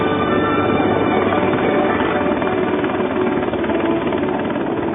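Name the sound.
Mil Mi-10 heavy flying crane helicopter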